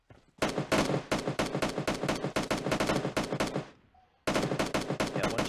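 Rapid automatic gunfire in the mobile battle royale game PUBG Mobile, a loud sustained burst of closely spaced shots, a brief pause, then another burst resuming.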